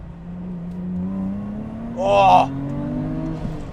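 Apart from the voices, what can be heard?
supercharged EZ30 Subaru Liberty engine revving, exhaust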